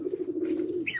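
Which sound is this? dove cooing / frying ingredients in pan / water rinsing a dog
dove cooing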